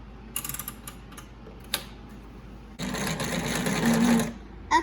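A sewing machine runs a straight stitch across fabric for a hair scrunchie: a few short bursts and clicks first, then a steady, close, loud whirring run for about two seconds before it stops.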